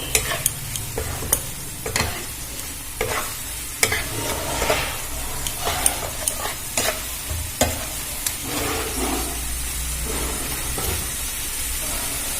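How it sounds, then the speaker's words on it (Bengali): Spices and a splash of water fry in a pan for pomfret curry, with a close, steady sizzle and frequent rhythmic scraping clacks of the stirring spoon, no talking. "এবারে এতে একটু অল্প জল দিয়ে দেব। এটা ভালো করে নাড়াচাড়া করে ভেজে নেব।"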